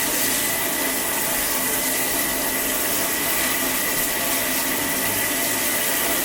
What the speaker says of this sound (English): now I can get a little bit more pressure and start rinsing the rest of his body